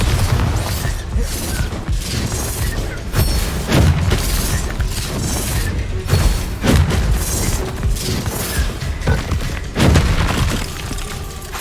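Spell explosions from Bombarda and Confringo in the Hogwarts Legacy video game: loud, dense booms and shattering crashes burst repeatedly over a continuous roar of combat effects for the whole stretch.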